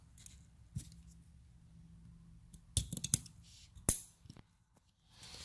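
A pistol's firing pin and firing pin spring go back into the slide, giving a few soft metallic clicks and snaps spread through a quiet stretch, close up and faint.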